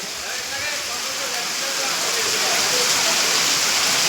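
Heavy rain pours steadily onto surfaces at a temple, a dense, continuous broadband wash that grows slightly louder toward the end, with no voices.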